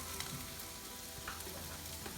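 Potatoes and onions sauté in a pan with a steady, dense sizzle of frying, constant and close throughout the short stretch with no talking.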